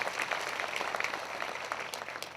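An audience at a Christian prayer meeting claps in dense, steady applause for a couple of seconds, fairly soft and even, with no voices above it.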